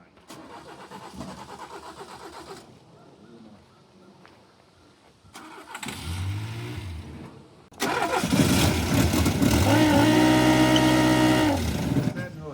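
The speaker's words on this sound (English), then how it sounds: "I think it's something out of the carburetor. It's almost like a diaphragm vibrating." An old Nissan Pike car engine with an odd vibrating, diaphragm-like noise from the carburetor intake; the engine cranks and catches, idles unevenly, then revs up loud and steady with a buzzing tone.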